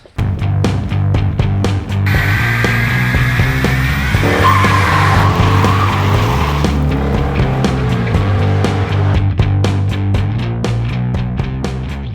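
A Volvo 740 Turbo drives sideways with its engine roaring, and its tires squeal in long, loud skids over the steady drone of the motor.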